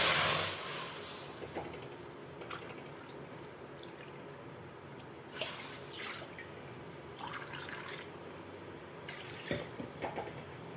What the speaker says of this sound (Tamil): நான் இன்றைக்கி 3 டம்ளர் வாட்டர் ஆட் பண்ணிக்கிறேன்